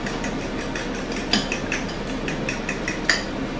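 Ham and egg pie filling with fresh parsley being mixed in a bowl, a steady run of light clinks and scrapes of utensil against the bowl at close range, with no talking.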